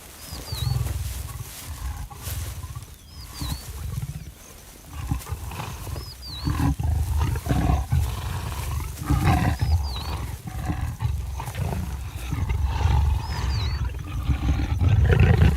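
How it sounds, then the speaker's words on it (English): Deep, rasping roars and grunts from mating leopards rumble on and off, with a repeated higher call; loud and continuous, no voices. "Leopard mating is not a silent affair, in contrast to their stealthy hunting."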